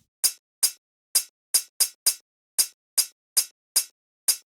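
A processed, heavily distorted hi-hat sample hits eleven times in a slightly uneven rhythm, each bright, crisp burst decaying quickly into silence, close and dry with no other sounds.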